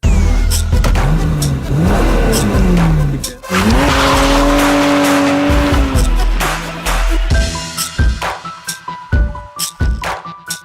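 A BMW E30 325i revs hard and accelerates, its engine climbing and shifting while tires squeal and skid, loud and close, before the engine settles into short bursts.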